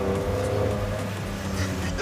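Engine of a 2007 Maserati FIA GT1 race car converted for street use, howling loud and close with a deep, steady bass-heavy drone throughout.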